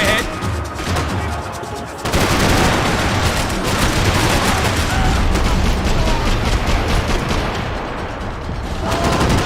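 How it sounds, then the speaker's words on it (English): Video game gunfire from Max Payne 3: a dense, sustained barrage of loud shots and bursts that grows louder after the first two seconds and continues without pause, with a voice faintly present in the mix. "I can't concentrate with bullets whizzing past my head!"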